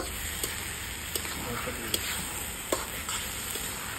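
Homemade spice mix being stirred into a potato curry in a pan: a steady close sizzle with sharp spoon scrapes and taps recurring roughly every half second to second.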